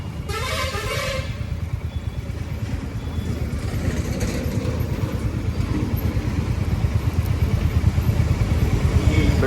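Motorcycle ridden on a morning road, a steady loud engine drone and road rumble that builds slightly throughout, with a brief horn-like tone at the very start.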